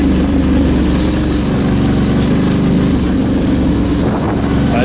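A Ducati Hypermotard 1100 motorcycle engine while riding, a loud, steady, close droning roar with rough low rumble and wind noise throughout, no talking.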